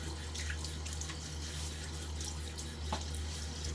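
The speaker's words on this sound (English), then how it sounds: "I'm going to splash a little water on my face." Water from a running bathroom sink tap splashed onto the face during a wet shave, a steady soft stream with faint scattered splashes, low and close, under a constant mains hum.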